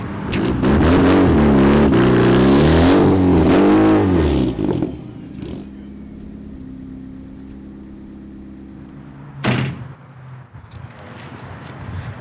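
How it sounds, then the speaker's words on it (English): A drift car's engine revs loudly and roughly for several seconds as the car is parked, then drops to a low idle with a brief mechanical clack midway through the rest. "we're gonna park the car right there"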